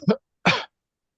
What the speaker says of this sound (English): You coughing?